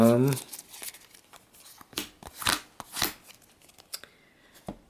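Yu-Gi-Oh trading cards are shuffled and handled close up, making a series of crisp papery flicks and slides with a loose, uneven rhythm after a brief voice at the start.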